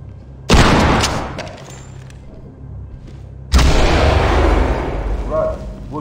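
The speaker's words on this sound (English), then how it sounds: "Blow the lock. Deploy flashbangs and clear." Breaching charge and flashbang blasts in the tactical shooter Ready or Not: a loud boom at about half a second, followed by rumbling debris, then a second powerful bang near the middle with a long reverberant tail and faint voices.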